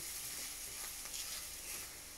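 Sweet paprika sizzles in a hot pan for a vegan chilli con carne, a steady soft frying hiss that runs alone and close for the whole stretch.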